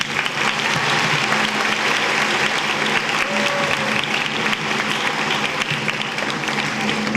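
A large group of students and parents at a school annual day applauds together in a hall, a dense, continuous roar of clapping that holds at steady loudness throughout with no break.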